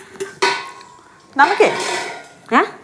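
Plates and metal dishes clatter and clink in a few short bursts, close by, between quieter gaps, with people talking in Malayalam at a home meal of rice and pickle.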